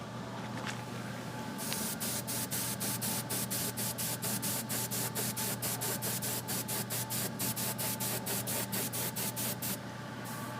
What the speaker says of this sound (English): Now you might be wondering why I'm spraying this fuel tank separately.